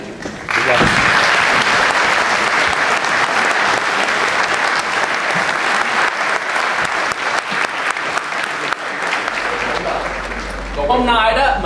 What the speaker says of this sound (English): if the house could indulge us with a warm round of applause